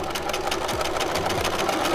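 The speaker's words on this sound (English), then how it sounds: "Do a back stitch here to lock it in." Sewing machine running steadily while back stitching a quarter-inch seam on a four-square bag, close and continuous with a fast even mechanical whirr and needle rhythm, no talk.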